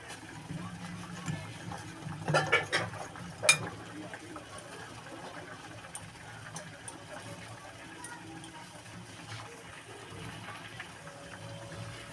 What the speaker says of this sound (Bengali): এবার দেব জল অল্প অল্প জল দিয়ে ফাটাবে এটা